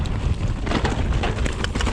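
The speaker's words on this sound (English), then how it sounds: "it's very windy." Strong wind roaring and buffeting a microphone, a continuous low rumble with gusty surges throughout, no voices.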